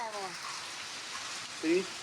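Heavy unseasonal rain lashing the Konkan coast of India, a steady hiss of rainfall that persists throughout, with a brief louder tonal sound near the end.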